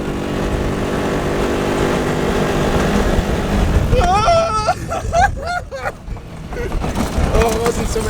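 A cheap Ariel Atom on a test run. A loud, rough engine roar builds, then breaks into quick rising and falling revs as the throttle is worked and released, with wind and road noise throughout.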